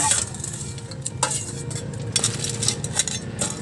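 Crabs clatter into a pot of ginataang labong (coconut-milk bamboo shoot stew with seafood), with close, steady rattling and stirring over a constant bubbling, sizzling bed.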